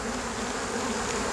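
Honey bees from an open beehive make a dense, steady buzzing hum close by, continuous and unbroken throughout.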